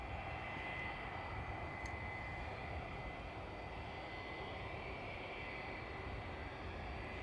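A Ryanair jet taking off at Dublin Airport roars as a steady, broad engine rumble with a faint high whine, sustained and unchanging at a distance.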